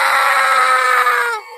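A man's long, piercing scream in a horror story, loud and close, holding one strained pitch for over a second before cutting off abruptly.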